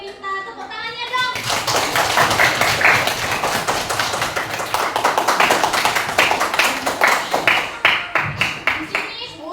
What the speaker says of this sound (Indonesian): minta tepuk tangannya dong